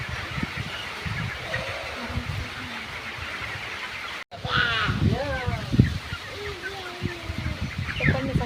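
A flock of poultry at a farm chirps and clucks continuously near a water pot, with a sharp caw-like call cutting through partway; the calls grow busier and louder after a brief dropout.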